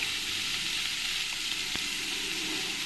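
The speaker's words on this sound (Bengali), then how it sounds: "এবার আমি এক এক করে কই মাছগুলোকে তেলের মধ্যে দিয়ে দেব" Koi fish sizzle in hot oil in a pan, an even, continuous hiss of frying with a faint click or two and no voices.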